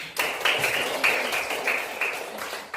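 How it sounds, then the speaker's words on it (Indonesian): Classroom of students clapping for a presenting group, a fairly faint, uneven patter of hands in a room with a few stronger bursts. "tepuk tangan buat kelompok 1"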